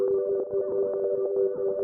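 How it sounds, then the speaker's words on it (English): Synth pad, My Love from Shinju's Volume 3 Serum bank, for a beat: sustained bubbly ambient tone with a steady held pitch and a soft rhythmic pulsing texture, playing alone. "The first pad I used in this beat is the My Love pad in Shinju's Volume 3 Serum Bank"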